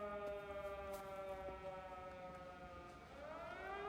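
In the video game Everybody's Gone to the Rapture, a civil defense siren wails steadily and faintly from a distance, then its pitch bends and rises near the end.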